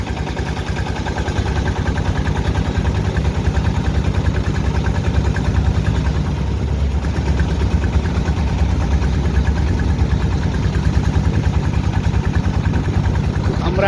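A trawler's engine drones steadily and loudly from close by as the boat slows and turns on the Meghna river near Bhairab, with someone talking over the continuous throb.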